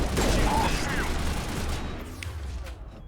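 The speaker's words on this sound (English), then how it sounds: "that is my fire rate with this pistol" Pistol in Mass Effect firing in a rapid burst, a dense crackling volley of gunshots that starts loud and gradually thins and fades, with some game noise beneath.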